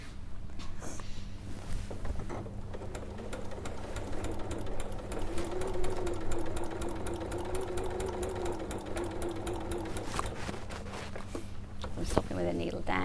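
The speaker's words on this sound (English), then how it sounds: "Sallieann's using the 680 plus machine I have." A Janome 680 Plus sewing machine runs steadily stitching a basket weave cushion quilt, a rapid even needle rhythm throughout, with brief pauses and people talking over it.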